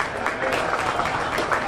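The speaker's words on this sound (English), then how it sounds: "Let's give her a big round of applause." Audience at a county fair sheep and goat show applauding a young exhibitor's ewe lamb: a brief, dense patter of clapping from a crowd, moderately loud and close.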